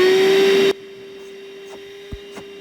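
A suction vacuum roars loudly while pulling a string line through, a steady whine with a strong hum that cuts off abruptly after under a second, leaving a quiet residual hum and a couple of faint knocks.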